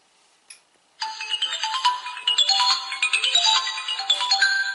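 A waterproof smart watch plays its power-on startup tone after a button hold: a brief click, then a bright chiming melody of several quick notes lasting about four seconds, close and clear with no talking.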